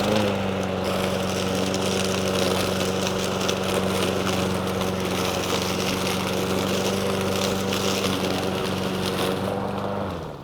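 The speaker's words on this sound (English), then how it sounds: "Starting the mower is pretty simple." A petrol walk-behind lawn mower runs steadily, its engine a loud, even drone with a constant low throb, held for about ten seconds before cutting off at the end.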